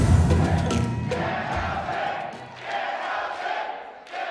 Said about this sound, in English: This is a pro Danhausen crowd.